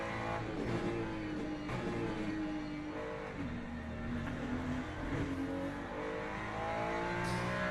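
LMGT3 class race car in Le Mans Ultimate, its engine droning loud and steady with rising and falling revs as it laps, the tone sweeping through gear changes without pause.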